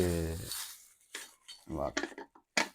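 Metal spoons and cutlery rattle and clink while being handled with cookware in a home kitchen, in a few short clattering bursts separated by pauses, with a voice talking at the start.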